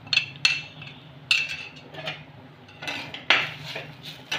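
A utensil scrapes and clinks against a pan while bitter gourd spice filling with amchur powder is mixed and stirred, giving intermittent close metallic taps and scrapes with quiet gaps between them.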